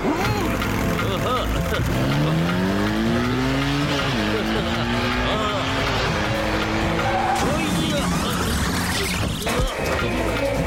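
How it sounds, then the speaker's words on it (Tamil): Cartoon vehicle driving fast, loud engine with sweeping pitch changes and screeching skidding tires, continuous and close, with other cartoon sound effects. "நீ ரோட்டை பார்த்து வண்டியை வேகமா ஓட்டு"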